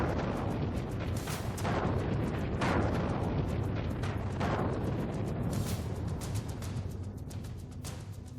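A massive blast in the Alborz hills of Tehran, Iran, near a missile production site, heard as a dense, sustained roar with repeated booming bursts rolling through without any voices.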